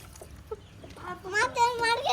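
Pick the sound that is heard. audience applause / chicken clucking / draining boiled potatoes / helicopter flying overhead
chicken clucking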